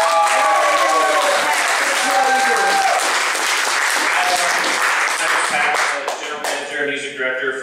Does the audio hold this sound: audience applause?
yes